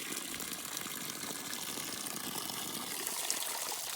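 Continuous rushing, trickling cold spring water pours steadily from a natural spring into a water bottle, a dense even wash of sound with no voices.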